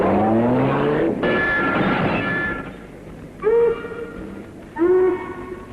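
A car in a comedy radio sketch roars off with a loud engine rev and rushing noise, then fades to quieter background, interrupted by two short hooting blasts.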